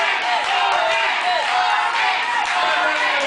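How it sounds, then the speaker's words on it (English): A wrestling arena crowd roars in support of Morgan Williams during a ten-minute match, a continuous loud wash of cheering and shouts with scattered claps and whoops. "Listen to this crowd."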